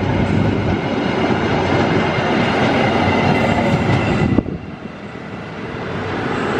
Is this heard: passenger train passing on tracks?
yes